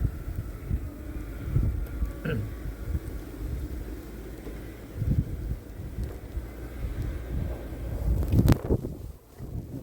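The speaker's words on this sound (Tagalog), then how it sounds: "kahit ganyang malakas ang hangin" Strong wind blows during a major winter snowstorm in Montreal, a moderate, steady rushing with soft gusts and faint rustling, fairly low in level and with no talking.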